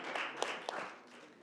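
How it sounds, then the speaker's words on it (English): Audience applause at an award ceremony during a research scholars' conference on Tibetan studies, a steady wash of many hands clapping from a moderately distant crowd, with a couple of sharper individual claps standing out. "Can you please give a round of applause?"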